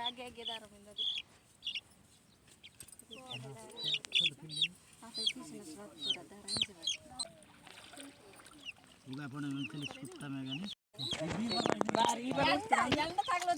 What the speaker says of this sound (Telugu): కోడి పిల్లని అయితే పెడుతున్నాం ఫ్రెండ్స్ అక్కడ